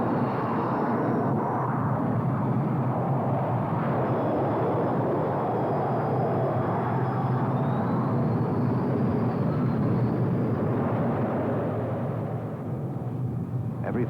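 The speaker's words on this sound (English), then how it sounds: "From a standing start, 20 tons of aircraft reach flying speed in 2 seconds flat." A 20-ton aircraft launched from a standing start, reaching flying speed in two seconds: a loud, steady jet roar with broad rumble holds throughout, fading slightly at the end.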